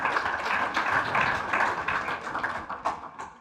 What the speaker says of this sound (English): A round of applause for these very brilliant speakers